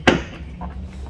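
A single sharp hammer strike on vice grips in a workshop, a loud close metallic whack that rings out briefly over a low background hum.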